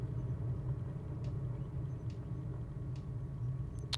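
A DA62 twin-engine aircraft taxiing to parking in Microsoft Flight Simulator 2020: a steady low engine drone with a rumbling undertone, even and moderately loud throughout, with faint ticks above it.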